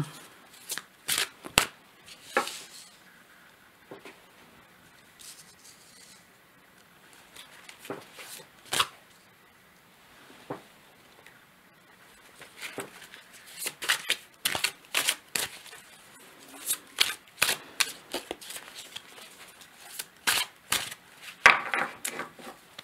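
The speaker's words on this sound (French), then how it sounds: "je vais prendre une autre carte" Playing cards being shuffled and drawn up close, with quick papery riffles, flicks and soft slaps of cards set down, scattered irregularly across a quiet room with no talk.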